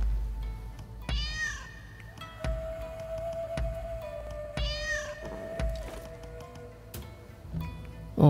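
A cat in Rise of the Ronin meows twice, a few seconds apart, over quiet game ambience with a soft sustained tone and occasional clicks.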